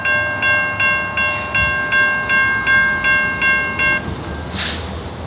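A train pulls into Point Pleasant Beach station, a bell clanging in an even rhythm for about four seconds over a rumbling approach, with a brief hiss near the end, loud and close.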